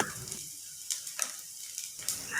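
Salt, chilli powder and turmeric powder sizzle quietly in hot oil in a home kitchen, with faint scraping strokes as the spices are stirred together.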